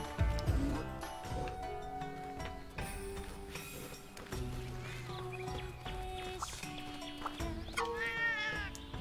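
A cat meows several times in the Monster Hunter Rise video game, with short rising calls set over tonal game music, and no one speaking.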